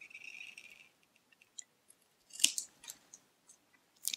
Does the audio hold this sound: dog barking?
no